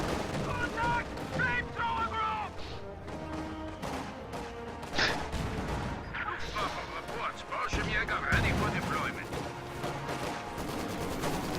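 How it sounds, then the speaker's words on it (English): Rapid bursts from a Maxim machine gun in a war strategy video game, mixed with scattered explosions and battle crashes, running continuously under a commentator's voice. "Maxim firing at these Folks Grenadiers from range."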